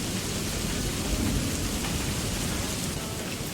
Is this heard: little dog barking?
no